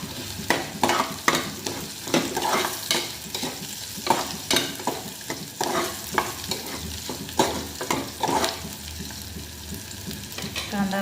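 Onions sizzle in a pan while a spoon stirs them in frequent scraping strokes, and the crackling frying stays constant underneath throughout.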